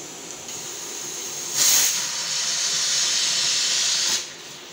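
Pressure cooker of boiling peas lets out a steady, loud hiss of escaping steam lasting a few seconds, with a brief sharper burst near the start before the whistle cuts off.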